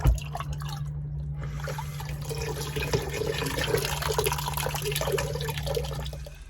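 Water flows strongly through a boat's seacock pipe toward the water filter, a steady rushing, gurgling stream close by with a low hum underneath and no talking.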